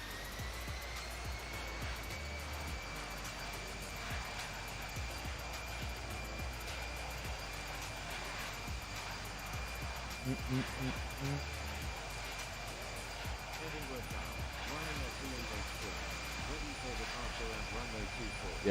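An airliner takes off in a flight simulator game with a steady, even engine roar and a faint high whine held throughout at moderate level, and a few soft voices or noises are heard underneath.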